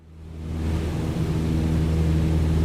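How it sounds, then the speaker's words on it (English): Cessna 152 propeller winding down in Microsoft Flight Simulator, heard as a continuous low engine and prop drone with airflow noise that builds early and then holds steady, no talking. "I hear the propeller slowing down"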